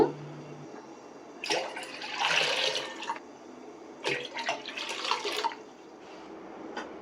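Water is run into a container in a home kitchen to give children a drink. It comes in close, intermittent splashing bursts separated by quieter stretches, with no talking.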